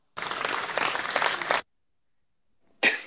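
Short burst of hand clapping from a small group, steady and fairly close for about a second and a half, then silence, then a brief noisy rustle at the end.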